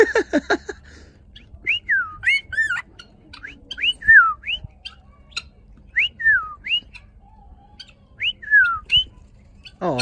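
A bird whistles back in short, rising-and-falling phrases that copy a person's owl noise. The calls repeat in clear, close bursts with quiet gaps between them, and no one speaks.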